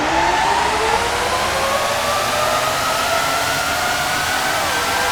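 Formula 1 cars roaring off the grid at a race start in Formula 1 Championship Edition, a loud continuous engine howl with rising pitch sweeps as the pack accelerates, steady and dense throughout.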